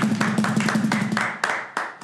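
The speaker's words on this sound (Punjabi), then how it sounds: "ਓਹੋ ਤਾੜੀ ਤਾੜੀ ਜ਼ਰਾ" An audience at a comedy show claps on request, a dense run of hand claps with steady rapid rhythm that thins into a few separate louder claps at the end, with voices underneath.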